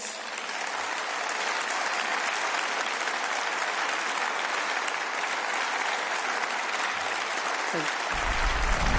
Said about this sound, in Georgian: President Zurabishvili's სიტყვა მხურვალე ტაშით ევროპარლამენტარებმა რამდენჯერმე შეაწყვეტინეს